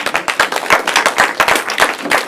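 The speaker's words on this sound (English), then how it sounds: "let's give our participants one more round of applause" Audience clapping in a steady burst of applause at a 2014 mayoral candidate debate in Deep East Oakland, dense overlapping claps at a constant loud level with no talk over it.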